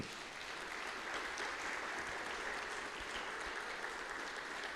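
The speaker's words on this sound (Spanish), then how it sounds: "Dale un aplauso al Señor." A church congregation claps together in steady, continuous applause, a uniform wash of hand claps at moderate volume lasting several seconds without speech.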